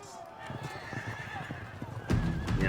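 Light cavalry horses in a medieval battle game whinny and clop their hooves, with a rising rumble of galloping near the end and a voice talking over them.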